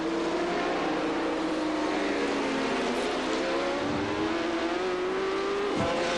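A superbike racing motorcycle on track, its engine screaming loud and close in a continuous high-revving whine with shifting pitch and a brief dip near the end.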